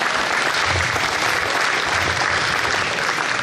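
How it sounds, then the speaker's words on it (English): Audience at a veteran fair in the Evansville Wartime Museum breaks into steady, dense applause for a speaker, a continuous wash of clapping filling the room. "Please give her another round of applause."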